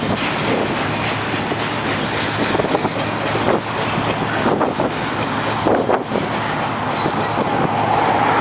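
A long freight train rolls past in LaGrande, Oregon, a steady loud rumble with clickety-clack of railcars and wind buffeting the microphone throughout.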